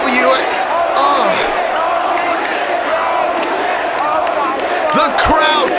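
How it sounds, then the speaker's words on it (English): A wrestling crowd at an FWA show roars and cheers loudly and steadily throughout, with scattered whoops and shouts rising from the mass of voices. "The crowd reacting to what they've just seen."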